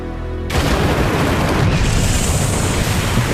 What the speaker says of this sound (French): Le dynamiteur amorce ses explosifs et tout le monde dans les parages se bouche les oreilles, ferme les yeux et prend appui avant l'explosion